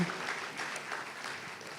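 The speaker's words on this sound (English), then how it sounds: "give a big clap for all of you to be a part of this wonderful event" Audience clapping at the launch event for the Lancet Countdown 2023 report on health and climate change: a brief, even burst of applause, fairly soft and steady throughout.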